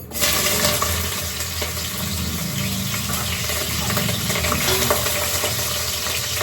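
Onions and curry leaves sizzle in hot oil for a chicken biryani, a loud, continuous crackling hiss close up that stays steady from start to finish.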